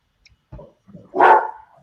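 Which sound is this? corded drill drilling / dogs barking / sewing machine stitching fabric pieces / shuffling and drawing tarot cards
dogs barking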